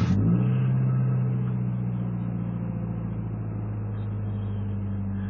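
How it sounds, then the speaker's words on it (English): A Nissan 240SX engine cranking and firing into a cold-start high idle with the EGR system removed, a steady close droning hum that settles slightly after the initial catch. "Alright, my high idle right there, that's a cold start feature from removing the EGR system"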